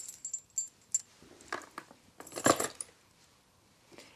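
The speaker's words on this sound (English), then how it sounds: "Keys." Keys jingle and clink in bursts as they are dropped into a medium suede Toteme T-Lock top-handle bag, close and fairly soft, with a louder rattle midway.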